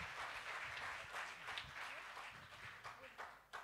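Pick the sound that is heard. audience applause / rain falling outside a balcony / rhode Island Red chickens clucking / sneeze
audience applause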